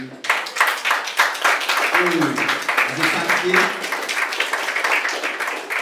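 An audience at a French-speaking award ceremony gives rhythmic, fairly close applause that is steady and lively throughout, with brief voices and cheers rising above it midway.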